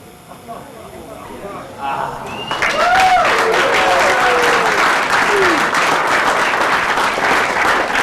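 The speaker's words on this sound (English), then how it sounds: "Give a round of applause" Audience applause starts with light scattered claps, then swells after a couple of seconds into loud, sustained clapping that holds steady to the end, with a few whistles and voices mixed in.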